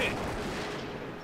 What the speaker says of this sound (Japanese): 銃弾を放ってきてるわけだな